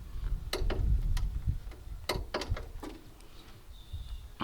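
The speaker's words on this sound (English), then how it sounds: "you hear a nice little click, and then you know you're torqued into place" A torque wrench clicking while tightening a front strut bar on a Honda Civic, several sharp metallic ticks scattered over a few seconds, close and fairly distinct above low rumbling handling noise.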